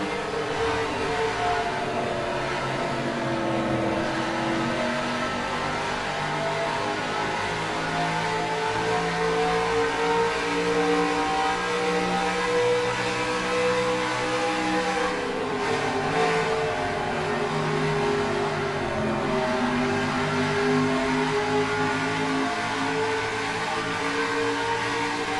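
Race car engines roar continuously in NASCAR Racing 2003 at Nashville, a loud, steady droning pack of V8s heard from inside the car, with pitch rising and falling through shifts and corners.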